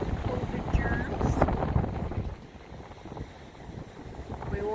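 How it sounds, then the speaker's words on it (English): Gusty wind buffets the microphone outdoors, a steady rushing roar that swells and eases, with a voice talking over it. "The wind's blowing me away. It's windy."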